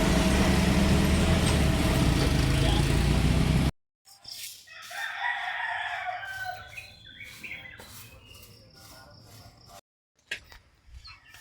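After a burst of loud noise cuts off, chickens cluck and a rooster crows nearby in short, scattered calls.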